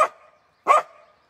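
Corgis give two sharp, excited barks about half a second apart as another dog jogs past, loud and close with no talking.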